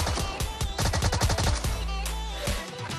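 Rapid bursts of automatic gunfire from the mobile battle royale game PUBG Mobile on the Erangel map, dense and loud, followed by a lower sustained tone near the end.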